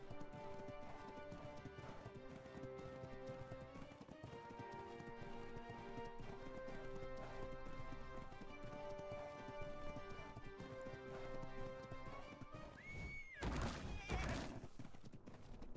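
A horse gallops in the video game ARK, with a fast, steady clip-clop of hooves and an occasional whinny over continuous background music, ending in a louder burst of noise.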